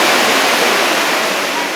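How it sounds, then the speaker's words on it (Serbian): The Koritnica and Soča mountain rivers rush together at their confluence near Bovec, making a loud, steady, close roar of turbulent water. "Ovo je ušće dveju planinskih reka, sa desne strane je Koritnica, a sa leve strane je Soča."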